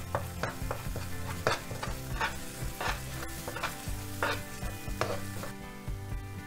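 Spice masala with turmeric, coriander and cumin powders being stirred and fried in a pan, with a steady close sizzle broken by repeated scraping strokes of a spoon against the pan, and no voices.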